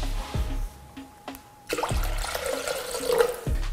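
Water poured into a Thermomix bowl, starting with a few knocks and clinks and then a steady splashing, gurgling pour for the last couple of seconds, close and with no talk.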